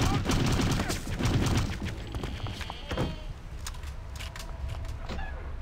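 Gunfire in the video game Return to Castle Wolfenstein, a dense burst of rapid shots followed by scattered single cracks and clatter, loud and close, with a player talking over it.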